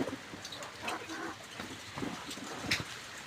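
Soft pigeon coos and scattered bird calls over a busy outdoor background, with light rustling and pecking noises throughout as pigeons eat grain on a roof.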